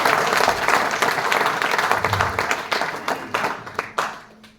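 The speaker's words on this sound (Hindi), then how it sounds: "नेटवर्क मार्केटिंग के लिए तालियां होनी चाहिए।" A crowd at a network marketing event claps loudly and steadily, the applause gradually thinning out into scattered claps at the end.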